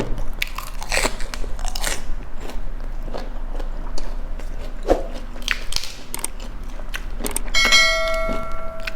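Jellyfish dressed in sesame oil and sprinkled with white sesame seeds is bitten and chewed up close, with loud, wet crunches in an irregular rhythm and a few sharp clicks between bites.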